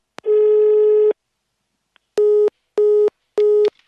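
A telephone busy signal: one long steady tone, a pause, then three short evenly spaced beeps, loud and clear with no voices.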